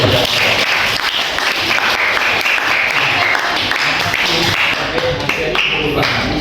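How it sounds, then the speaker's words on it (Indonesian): A class applauds loudly and continuously, many hands clapping close by in a thick, steady burst, with faint voices mixed underneath. "Masih tepuk tangan dulu."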